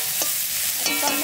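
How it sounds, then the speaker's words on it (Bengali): Cumin seeds and dried chillies temper in hot oil for a Bengali fish curry, giving a brief, steady crackling hiss with a couple of faint pops and scrapes, close by and alone. "জিরে আর শুকনো লঙ্কা ফোড়ন"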